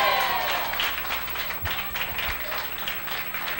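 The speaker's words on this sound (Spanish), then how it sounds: "Ponte de pie y ese aplauso sea bien fuerte al Señor" Congregation applauding in a church, a moderately distant wash of many hands clapping with a few sharper thumps, continuing steadily throughout.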